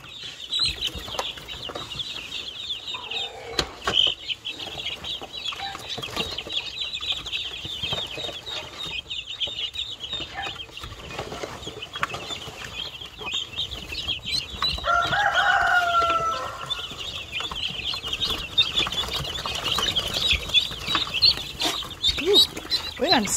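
Chickens in a coop clucking and crowing together, a busy, continuous flock chorus with squawks and wing flaps, fairly close.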